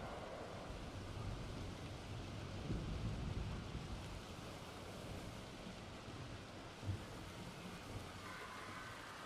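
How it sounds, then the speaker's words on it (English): Steady rain with low thunder rumbles in the video game Planet Coaster 2, a continuous wash of rainfall with a few soft distant rolls of thunder and no talking. "I just wish it would stop raining."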